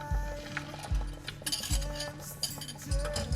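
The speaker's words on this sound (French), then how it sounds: "on va les verser sur le jaune, enfin sur les jaunes et le sucre. Hop, on mélange." Hot milk and cream being stirred into egg yolks and sugar in a bowl for chocolate mousse, with a utensil scraping and clinking against the bowl in a steady, repeated rhythm, close up.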